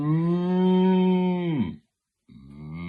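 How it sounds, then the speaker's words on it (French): A cow moos loudly and close in a meadow: one long, deep, drawn-out low that falls away into silence, then a second moo begins. "il observa les vaches qu'il n'avait jamais vues ni entendues d'aussi près"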